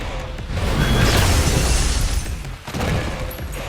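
A shotgun loaded with quarters firing in an action movie scene, heard as a dense, loud, roaring blast-like burst that fills the whole stretch with a brief dip near the end, no talk.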